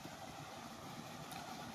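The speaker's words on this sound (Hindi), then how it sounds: "ये देखिए इन्होंने ट्यूबवेल चला रखा है" A tubewell pump engine runs in a farm field, a continuous low droning hum at steady level with no breaks.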